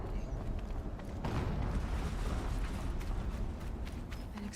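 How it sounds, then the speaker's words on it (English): Deep rumbling game explosion in a turret-combat scene, a broad sustained roar building after the first second and holding loud to the end. "An explosion."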